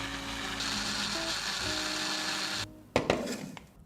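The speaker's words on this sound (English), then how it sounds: "And then I add a huge tablespoon of cottage cheese, a little bit of salt, and blending it all together." An electric blender runs steadily on oats, cottage cheese and salt, giving a loud continuous whir. It cuts off after about two and a half seconds, and a few clunks of handling follow.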